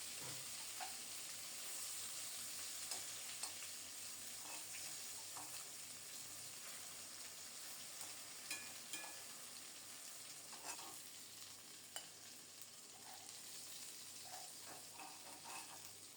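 Pieces of ash gourd and spiny gourd fry in a pan with a soft, continuous sizzle, dotted with occasional crackles and light clicks of turning, quiet and without talk.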